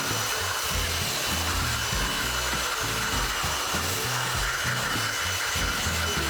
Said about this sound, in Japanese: まずこれがマキタのブロワー。